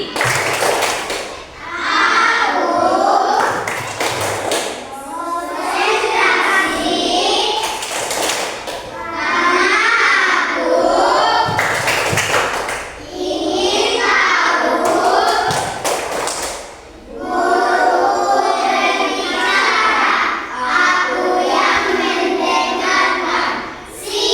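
A class of primary schoolchildren performs a concentration clapping chant, loud unison voices in repeated phrases with crisp claps and thumps marking the beat, pausing briefly between rounds.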